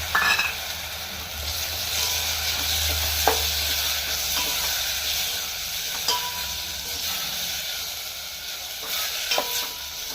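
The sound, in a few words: soaked fenugreek seeds and green chillies frying in oil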